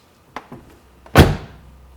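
A car door opened by its handle after being lubricated: two light clicks from the latch, then a solid, loud thunk as the door releases, fading quickly.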